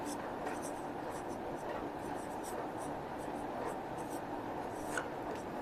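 Handwriting on paper during a Hindi maths lesson, steady faint scratching strokes under continuous room noise, with intermittent short pen taps.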